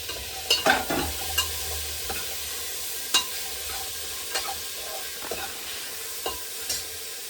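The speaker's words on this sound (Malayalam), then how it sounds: "ഇനി നമുക്ക് എടുത്തു വെച്ചിരിക്കുന്ന വെജിറ്റബിൾസ്, ബീൻസും കോളിഫ്ലവറും തക്കാളി എല്ലാം കൂടെ ഒരുമിച്ചിടാം" Beans, cauliflower and tomato tumbling into a cooker and then stirred, a few sharp clatters and thumps early on followed by scattered spoon scrapes over a faint sizzle, close and otherwise quiet.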